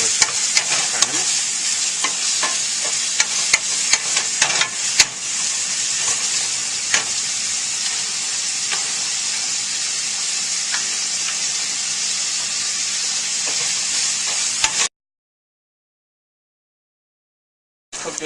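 Bacon and other ingredients sizzle steadily in a hot pan as part of a coconut curry crab and razor clam dish, a dense, continuous frying hiss with occasional stirring scrapes, then a few seconds of silence near the end.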